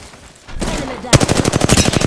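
Rapid automatic gunfire in the Apex Legends battle royale game: a loud opening shot, then a dense, steady burst of close shots with a faint rumble of action before it.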